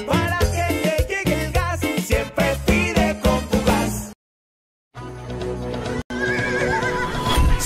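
Loud horse neighs and whinnies with hoof clip-clops, part of an advertisement for a horse-riding stable, come in repeated bursts, broken by a short silence, then continue.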